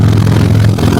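Car engine with a broken, leaking exhaust pipe, idling loud and close with a steady low rumble and a rough, puffing clatter throughout.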